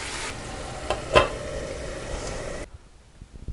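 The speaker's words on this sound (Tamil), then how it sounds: "ஒரே ஒரு டைம் வந்து நல்லா பரட்டிட்டு ஆஃப் பண்ணிக்கலாம்." Palak chicken being stirred in a pan, a scraping, sizzling stir with a couple of sharper spatula knocks before the sound cuts off to near silence.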